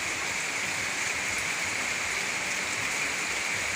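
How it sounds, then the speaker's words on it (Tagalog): Heavy rain from typhoon Carina pours steadily in a rural province at night, a dense, unbroken hiss of rainfall close by, loud and constant with no talking. "Buti naman at naulan na kasi ano, kailangan din ng ulan sa probinsya."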